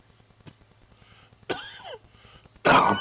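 Two bursts of harsh coughing, one at mid-clip and a louder one near the end, with a faint low hum and small clicks in between.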